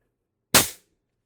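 A Pistelle X-68 HPA carbine with a 7-inch barrel and a Reaper suppressor, running on 1100 psi air, fires a single shot. The report is a sharp, close pop with a short hiss of decay and silence around it.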